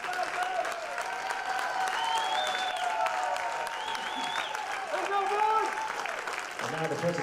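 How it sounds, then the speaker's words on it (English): Crowd applause at the 2022 NCAA Division II baseball championship final ceremony for Point Loma's student athletes, coaches and staff, steady and moderately loud throughout, with a public-address voice and tonal sounds rising over it. "Let's give all these outstanding student athletes, coaches, and staff a round of applause."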